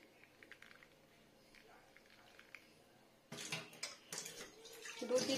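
Soaked food being rinsed in water through a tea strainer over a basin, with quiet splashing and trickling that grows louder in the second half, heard close and partly under a woman's speech.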